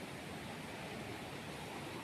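Sundaragada waterfall at Dadakangia pours down from above, a steady dense rush of falling water with no breaks, somewhat distant and even, no voices.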